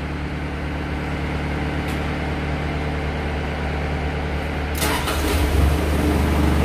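A vehicle engine cranks and catches near the end after a steady idle-like hum, during a hydraulic parking brake check, the starting burst loud and close with a fuller rumble following.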